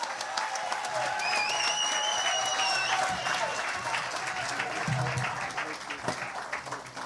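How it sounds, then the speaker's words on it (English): Audience applause at a PLP national convention after a speech, steady clapping spread across the hall for several seconds, with a faint sustained tone and some voices mixed in before it thins out. "Let's give him a resounding round of applause."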